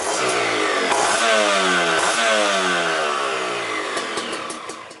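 Noisy, rough 150cc Kawasaki KRR 150 SE two-stroke-style sport motorcycle engine revs hard, a loud close buzzing wail sweeping up and down repeatedly, with no talking.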